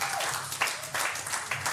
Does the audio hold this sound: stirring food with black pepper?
no